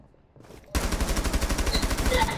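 Rapid automatic gunfire in Rainbow Six Siege, a loud, steady burst of closely spaced shots that begins abruptly after a quiet moment and keeps hammering for about a second and a half.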